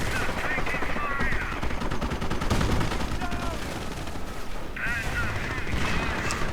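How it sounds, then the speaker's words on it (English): Thompson submachine gun fire in a World War II strategy game battle, rapid bursts and scattered distant shots forming a continuous fusillade beneath a commentator's voice. "Rangers equipped with Thompson's also dealing with those."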